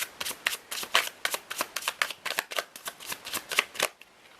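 Tarot cards are shuffled close up in a quick, steady rhythm of crisp riffling slaps, around fifteen in a row, with nothing else heard before they stop.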